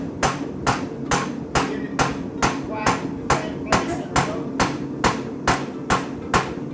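Evenly spaced hammer strikes ring out, about two per second, sharp metallic blows driving horseshoe nails, close and loud with a faint voice between hits.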